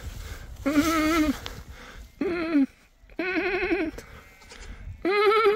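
A lamb bleats four times outdoors on a farm, loud and close. The wavering cries come in short bursts separated by brief pauses.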